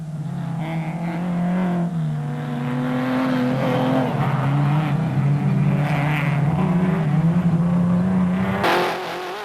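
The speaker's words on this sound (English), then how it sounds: "Class S challengers Nardus Alberts and Colin Hunter in the Rapsa Raceco right on their tails." Off-road race vehicles, including a Class S Raceco, roar past during the 2005 Nissan Dealer 400 desert race, with loud, rising and falling engine revs and gear changes, shifting pitch, and a rough burst near the end.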